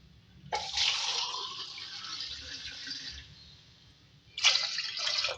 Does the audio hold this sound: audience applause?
no